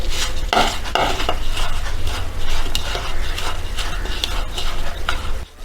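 Chicken marinade with lemon juice and coconut oil being mixed by hand or utensil in a metal bowl, with close, loud clinking and scraping against the bowl in an irregular stirring rhythm.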